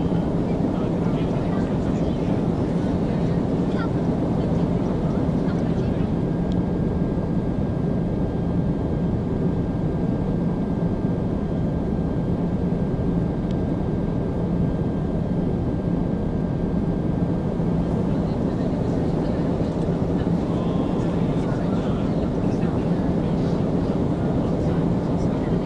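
A Cubana Ilyushin IL-96 airliner arrives at Paris-Orly, its steady jet roar continuous and fairly distant, with a voice audible over the engine noise.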